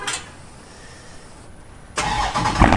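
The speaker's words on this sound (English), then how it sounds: "we're gonna do a cold start real quick" A Hemi-powered car starts from cold: quiet for about two seconds, then the engine catches with a sudden loud roar and settles into a heavy, rumbling idle close by.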